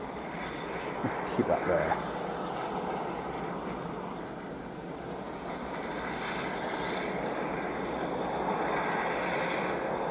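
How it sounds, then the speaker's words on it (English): A fixed-wing aircraft approaches East Midlands Airport at night, its engine a steady, distant broadband roar throughout, with a brief voice speaking near the start. "you see the aircraft approaching"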